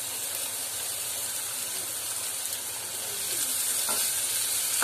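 Chopped onion and cumin seeds sauté in a pan for a pumpkin vegetable dish, giving a steady, faint hiss and sizzle. Soft stirring scrapes run under it, close and unbroken, with no talk.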